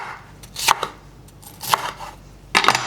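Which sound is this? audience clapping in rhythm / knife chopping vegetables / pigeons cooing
knife chopping vegetables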